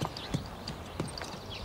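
Cartoon horse hooves clip-clop in a quick, light sequence of taps, moderately near and soft, with no voices over them.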